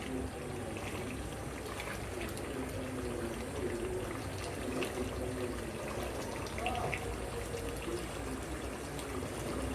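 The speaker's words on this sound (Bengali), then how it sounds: "এক কাপ পানি দিয়ে দিব গরম পানি" Hot water poured into a chicken and potato curry in a pot, a faint continuous pouring and trickling wash that runs evenly for about ten seconds, no talk.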